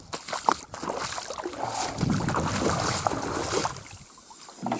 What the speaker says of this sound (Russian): Сейчас я подтяну, повыше подниму эту лодку свою.